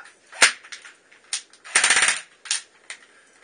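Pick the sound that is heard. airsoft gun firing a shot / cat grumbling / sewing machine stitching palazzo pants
airsoft gun firing a shot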